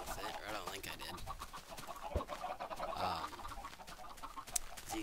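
Chickens cluck inside a Minecraft chicken coop, a cluster of short, scattered clucks close by over light background noise, with a few sharp clicks mixed in.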